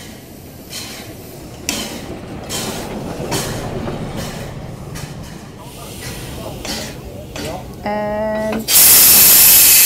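A Swiss mountain railway steam locomotive getting back to work, rhythmic chuffing and hissing bursts nearby with rail clatter, building to a loud steam whistle and roaring release at the end; brief talk.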